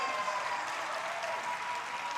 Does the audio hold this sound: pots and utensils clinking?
no